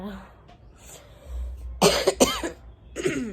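A person with a cold coughs several times in a harsh, close burst after a stretch of quiet room noise, then once more a moment later.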